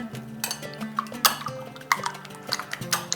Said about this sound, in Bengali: এরপর একটু ফেটিয়ে নিচ্ছি।